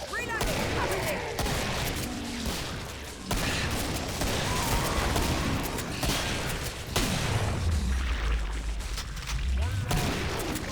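Dense gunfire from assorted weapons in Killing Floor, a 2009 shooter, including pistols, assault rifles and flamethrowers, rattles almost without a break at close, loud level, with heavy low booms rising near the end.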